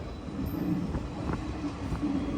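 A train rumbles at low speed as it arrives at Ramanathapuram railway station, a steady heavy drone with faint rhythmic wheel clatter and occasional metallic knocks, fairly close.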